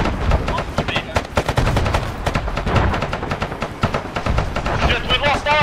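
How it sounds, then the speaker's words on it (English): Dense video-game gunfire and rocket shelling on a base, with rapid machine-gun bursts and shots over continuous loud battle noise, with voices talking underneath. "They're shelling the base directly."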